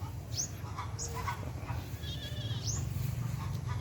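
Several goats bleat at intervals, a few short nasal cries over a steady low hum in the background.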